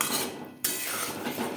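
Spoon scraping and clinking against a pan while potatoes and spices for an egg and potato curry are stirred together, a brief close metallic rasp with a short pause midway.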